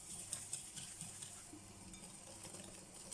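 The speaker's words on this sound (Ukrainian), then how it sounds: "І перемішуємо все вінчиком до однорідності." A whisk stirs lemon cake batter of sugar, vanilla sugar and salt in a bowl, making quiet rapid clinking and scraping against the bowl over a soft wet swish, close up and with no talking.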